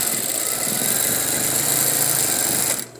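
A sewing machine runs steadily as it stitches a facing laid on a flat area, a continuous close motor hum with a fast mechanical buzz that stops abruptly near the end.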